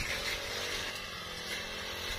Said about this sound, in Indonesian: melakukan pemotongan menggunakan mesin potong rumput